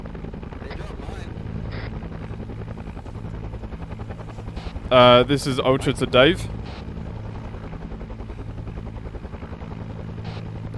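Helicopters fly overhead in an Arma 3 Vietnam operation, a loud, steady rotor drone running through the whole stretch beneath radio-style voices that break in with a louder burst midway.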